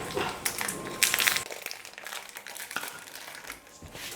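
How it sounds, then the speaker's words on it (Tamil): Chocolate biscuits tipped into a bowl give close, irregular crinkling and crunching rustles from packets and tumbling pieces, louder at first and then settling into softer scattered clatter. "ஒரு பவுல் எடுத்துக்கிட்டு அந்த பவுலில் எல்லா பிஸ்கெட்டையும் சேர்த்துக்கிறேன்."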